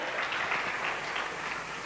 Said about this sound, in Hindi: हमारे विकास माकुर जी के लिए जोरदार तालियां दोस्तों